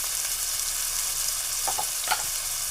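Turmeric hits hot oil in a pan while cooking a leafy-vegetable dish, giving a steady broadband sizzle with a few brief stirring scrapes near the end, no voices.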